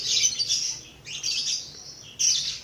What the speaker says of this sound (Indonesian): banyak kicauan burung karena di depan rumah aku tuh banyak burung